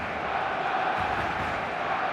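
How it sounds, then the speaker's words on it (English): Stadium crowd noise from a football video game on match day: a dense, continuous roar of many voices at a steady, moderate level, with no single voice standing out. "The stadium is full of noise and energy."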